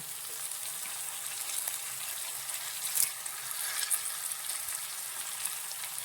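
Curry leaves hit hot oil in a pan while prawn roast cooks, giving a soft, steady sizzle and crackle with a few sharper pops, heard close and fairly quiet.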